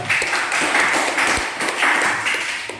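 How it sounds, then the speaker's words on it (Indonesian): Classroom applause from seventh-grade students for a discussion group, brief and fairly loud, with a few rhythmic clapping pulses over a noisy wash. "Beri tepuk tangan untuk kelompok 2"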